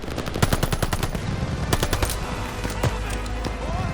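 Machine-gun fire in the PS5 Pro war game Operation Tonga: loud, rapid, continuous bursts of automatic gunfire with overlapping shots and a dense battlefield din, all close and relentless.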